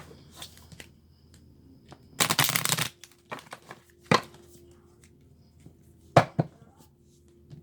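A deck of tarot cards riffled in one quick, crisp burst of fluttering card edges, with a few soft taps and handling knocks before and after in a quiet room.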